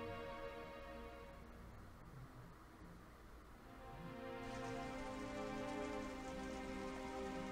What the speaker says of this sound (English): And now we get the angsty scene of Squall in the rain, moping to himself.